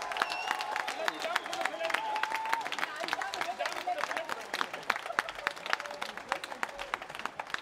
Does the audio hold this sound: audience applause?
yes